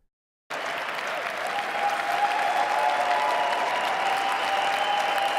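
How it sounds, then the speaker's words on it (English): A large crowd bursts into sustained applause after a moment of silence, steady dense clapping that stays loud and unbroken for several seconds. "Guys, why are you clapping?"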